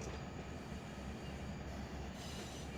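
A long freight train rolls steadily through the Run 8 train simulator's LAJ switching district, with continuous wheel-on-rail rumble, faint squeal and clatter, heard alone without voices.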